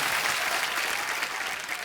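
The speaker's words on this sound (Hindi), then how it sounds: "सुगंधा के लिए जोरदार तालियां आ जाए यार।" Studio audience at a comedy show clapping loudly and continuously in a dense, steady burst of applause.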